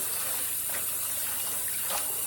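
Tap water runs steadily over fresh Swiss chard leaves as they are rinsed clean of vinegar, a continuous close gush and splash with no talking.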